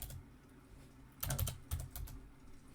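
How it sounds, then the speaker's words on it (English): Quick bursts of keystrokes on a computer keyboard, a short cluster of clicks then a few more taps, close and fairly quiet with no talking. "Why is typing such a challenge?"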